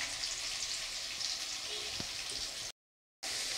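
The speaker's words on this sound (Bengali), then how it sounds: "এখন পেঁপে আর আলুটাকে দিয়ে দেবো, দিয়ে ভালো করে একটু ভেজে নেব।" Papaya and potatoes fry steadily in a pan, a soft continuous sizzle with a faint stir or tap partway through, cut by a brief moment of silence near the end.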